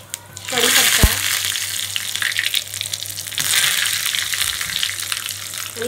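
Mustard seeds, fenugreek seeds and curry leaves hit hot oil for a sambar tempering and burst into loud, crackling sizzling with a sharp pop near the start, then a steady hiss at close range.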